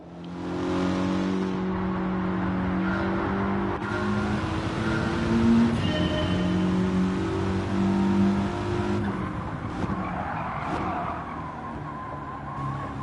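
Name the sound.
race car engine accelerating, from video game Gran Turismo 7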